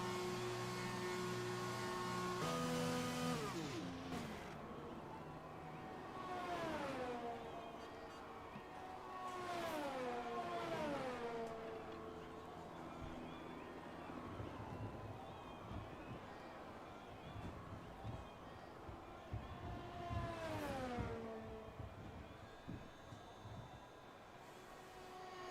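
Formula 1 cars race in F1 2020 at Spain or Monaco, engines whining up and down through gear shifts in repeated rising and falling sweeps, heard faintly under a voice talking.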